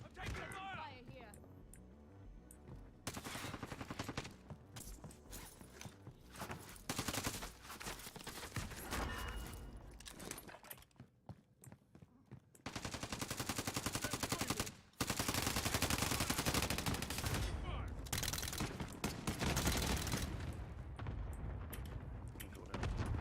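Rapid bursts of video game gunfire crackle and rattle in dense volleys, heard at fairly close range, with some quieter stretches between them and players talking over the shooting.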